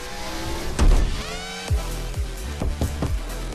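A race car engine in Fortnite's racing game mode revs and accelerates up through rising pitch, with a few sharp bursts and shifts; the engine sounds fairly loud and close, with no talking.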